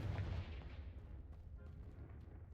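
The Confringo fire spell from Hogwarts Legacy strikes a pile of blocking debris, a single deep blast that booms at the start and then rumbles and fades away.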